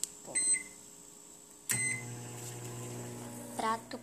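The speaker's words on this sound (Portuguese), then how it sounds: "Agora vamos voltar pra esquentar. No micro-ondas." Microwave oven running to reheat a plate of food: a steady low hum sets in partway through, with a couple of short electronic beeps at the start and a brief clatter near the end, heard fairly close.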